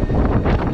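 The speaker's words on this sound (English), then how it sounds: "There's like a super gust of wind and literally almost took me off." A strong gust of wind buffets a scooter rider on a road trip from London toward Africa, a loud, rough rumble of wind battering the microphone for under a second.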